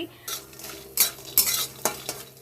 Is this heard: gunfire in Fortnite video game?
no